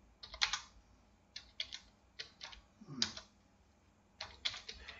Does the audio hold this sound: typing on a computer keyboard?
yes